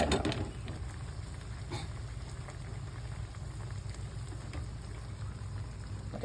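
Coconut milk sauce with canned salmon and pechay simmering in a pan, giving a steady, dense bubbling hiss that holds evenly throughout with no one talking.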